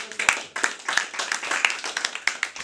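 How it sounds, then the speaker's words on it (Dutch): Scattered hand claps from a small group of school pupils applauding themselves, individual claps fairly distinct and uneven, moderately quiet, with no speech over them. "Dat is een applaus voor jezelf."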